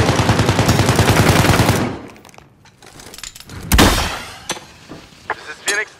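Rapid, loud automatic gunfire rattles continuously in Call of Duty: Modern Warfare, then breaks off into scattered thuds, clinks and single bursts amid battlefield noise.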